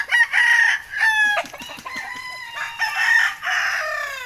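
Chickens in a backyard coop: roosters crow loudly and close, several long cock-a-doodle-doo calls one after another, with clucking mixed in between and no talk.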